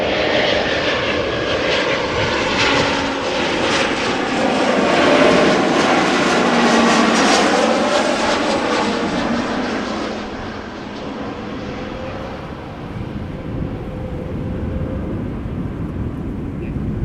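An Embraer 190 jet airliner's engines roar at Amsterdam Schiphol Airport, a loud broadband rush that swells near the start, then slowly fades and eases as the aircraft moves off.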